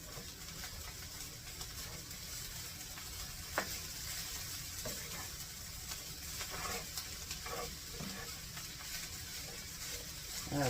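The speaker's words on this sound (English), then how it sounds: "I'm going to get those onions cooked down a little bit" Onions sizzling as they cook down in a pan, a faint continuous frying hiss with occasional soft stirring ticks, steady and unaccompanied.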